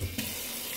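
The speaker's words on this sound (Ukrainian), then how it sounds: "включається вода" Tap water runs into a kitchen sink fitted with a Hendi food waste disposer, a steady soft hiss of flowing water heard close and unbroken for under a second.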